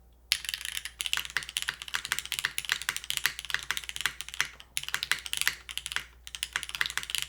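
Fast, steady typing on a Tofu full-size mechanical keyboard with an aluminum plate and polycarbonate top-mount case, dense close clacks running continuously with a couple of brief pauses.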